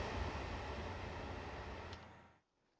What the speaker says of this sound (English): Let's let the train go through.